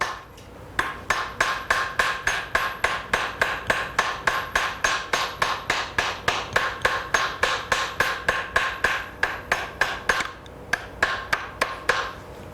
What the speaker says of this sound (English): I'm always hammering in the same place and moving the metal into the hammer